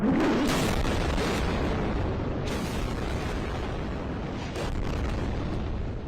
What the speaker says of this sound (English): Hundreds of Israeli rockets pounding Gaza for hours.